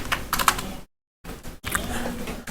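Computer keyboard typing at close range, two bursts of rapid key clicks split by a short silent gap, with no talking over it.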